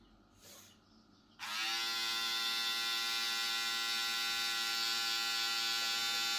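An electric shaver or hair trimmer, from an Andis reSurge, Supreme T Fader and men's foil shaver set, switches on after a faint click and runs in a steady, close, high-pitched buzz that holds constant to the end.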